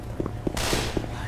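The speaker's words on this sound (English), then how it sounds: "Throwing a pipe bomb" A pipe bomb in the video game Left 4 Dead 2 goes off partway through, a sudden broad blast and rumble following a few soft rhythmic beeps and thuds, with no voices.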